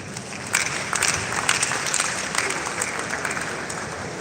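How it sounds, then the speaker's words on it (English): An audience at a professional development session applauds, a dense patter of clapping that holds at a moderate level throughout, with a few louder claps standing out from the crowd. "Let us clap for him again"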